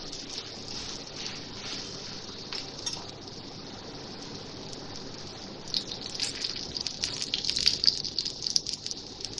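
A lentil-stuffed chana dal paratha roasts in ghee on a flat pan, a soft frying hiss and crackle that swells louder and busier toward the end.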